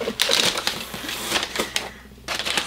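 Plastic packaging crinkles and rustles as a parcel of books is opened, with dense crackling bursts spread across the whole stretch and a brief quiet gap near the end, close to the microphone.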